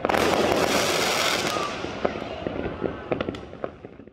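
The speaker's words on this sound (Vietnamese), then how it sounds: "pháo có tiếng nổ khá to" Illegal fireworks explode at night in Vinh city: a dense, loud crackling barrage fades into scattered sharp pops and bangs.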